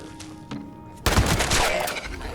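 Gunfire in the video game Fallout 76, a dense loud burst of rapid shots that starts abruptly after a quieter stretch and carries on to the end.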